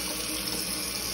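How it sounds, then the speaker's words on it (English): A kitchen faucet runs warm water in a steady, full rushing hiss that holds even throughout the short moment, close and without any voices. "So I turn my faucet on with warm water"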